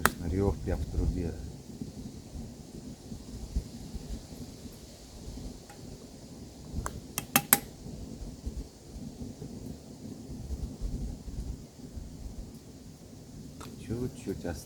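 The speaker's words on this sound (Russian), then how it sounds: "Слышно рев прям в трубе." A wood fire roars up a stove chimney while onions fry at a camp by Lake Seliger in August, a low rumbling drone with scattered crackles and clicks and occasional voices nearby.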